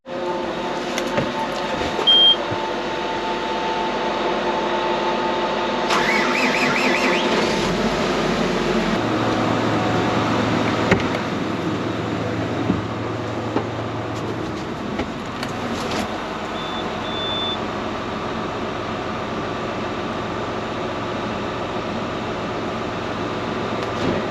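A Case IH 590 tractor engine idles steadily in a steady, continuous drone, with a few brief clanks and shifts in pitch along the way and no talking.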